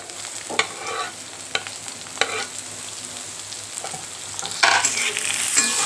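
Sliced onion is stirred into roasted masala and bitter gourd peels in a pan, with a steady, soft sizzle and scattered scraping strokes of a spoon, the frying growing brighter and louder near the end.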